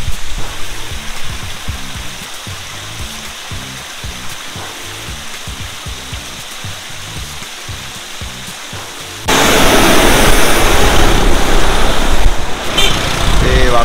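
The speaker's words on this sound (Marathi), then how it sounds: "पहिला धबधबा आहे पालघरवरून येताना आणि पाणी एवढं नाही आहे" The Waghoba Khind waterfall in Palghar, running low after a dry week, gives a continuous rushing roar that jumps much louder and brighter partway through, as if the listener moves closer.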